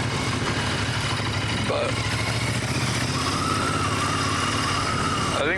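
A motorcycle engine runs steadily and close up through the whole stretch, a low continuous drone with a brief shift in pitch, while a rider talks over it.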